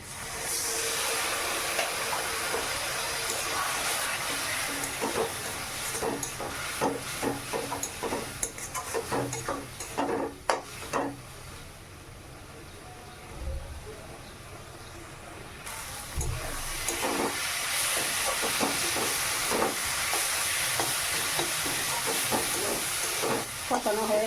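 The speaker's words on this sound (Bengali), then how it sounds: "একটু জল দিয়ে কষে নিচ্ছি" Spice paste for a Bengali fish curry being sautéed with a little water in a pan, giving a steady steamy hiss and sizzle with intermittent stirring scrapes throughout.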